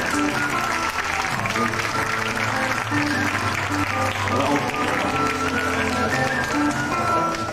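Loud, sustained applause from a large crowd at a Hungarian and Mexican folklore show, steady throughout with music or chatter mixed underneath.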